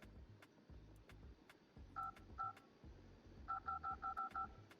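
Phone keypad tones tapped out as a simple melody, a few separate beeps and then a quick run of evenly spaced tones, sounding over a steady low electronic backing beat.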